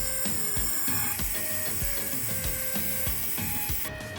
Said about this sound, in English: Side walls we will clean with round metal wire brush dedicated to injector seat.